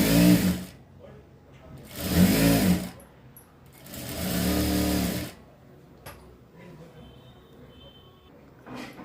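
An electric sewing machine stitches a straight seam on a frock in three close, loud bursts of fast whirring, each one or two seconds long, separated by short pauses and soft handling noises.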